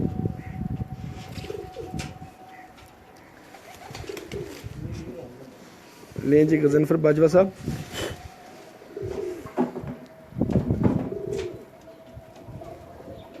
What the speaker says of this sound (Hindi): वो कुदरती तौर पे मेरे हाथ में उनका छत वाला कबूतर ही है